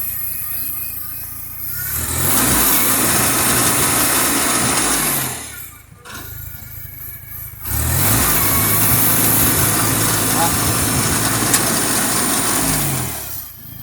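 IH Farmall Cub tractor engine running with no choke, loud and close, rising into two long revs that each fade back to a lower idle, with a brief dip between them.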